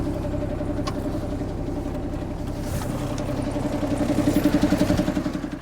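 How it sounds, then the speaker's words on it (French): A car engine idles steadily right after a jump start from a GOOLOO A5 booster, a close, continuous rumble with a faint rhythmic pulsing near the end and no talking. "il suffit de démarrer le moteur dans les 30 secondes"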